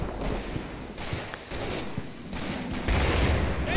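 Gunfire from a Combat Mission wargame battle in France, September 1944, as a scout team comes under fire: scattered shots and thumps with a steady rumbling battle backdrop, bursts swelling louder near the end.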